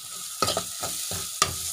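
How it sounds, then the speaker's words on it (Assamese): Chopped tomatoes fry in a pan for egg tadka under a soft constant sizzle, with four or five sharp scraping strokes of a spatula stirring close by and no voices. "এতিয়া যিখিনি চপ কৰি লৈছিলোঁ বিলাহী সেইখিনি দি দিম"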